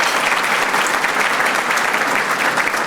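Audience applause for county executives at a legislative conference luncheon: steady, dense clapping from a large crowd, loud and sustained throughout without any break.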